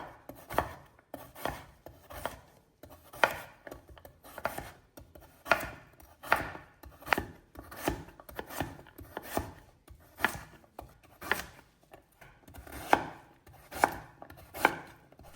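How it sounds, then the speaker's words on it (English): A knife chops a large carrot steadily on a board, a regular series of crisp, close thuds through firm vegetable, with no talking. "Now I'm chopping one big carrot."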